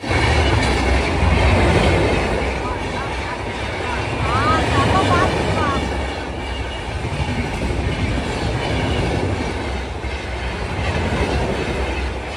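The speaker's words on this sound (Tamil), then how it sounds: "இருங்க ட்ரெயின் வர சவுண்டு கேட்டு அப்படியே உங்களுக்கு பேக்கில் காட்டுறேன்" A train rolls past nearby with a heavy, steady rumble and rhythmic clatter of wheels, and a brief metallic squeal partway through.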